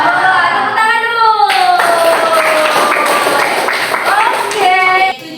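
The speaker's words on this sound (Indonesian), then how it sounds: "Tepuk tangan dulu." A class of school pupils claps hands together in a history lesson, a brief burst of close applause heard under a teacher's and children's voices.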